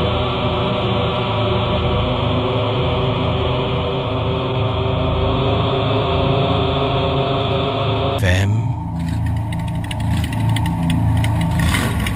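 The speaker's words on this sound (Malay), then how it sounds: "Waktu malam ni kira tengah hidup ke enjin, tengah nak bergerak lah ni" Motorcycle engine running at night, a steady loud mid-pitched idle that continues throughout, with an abrupt change in tone near the end as it starts to move off.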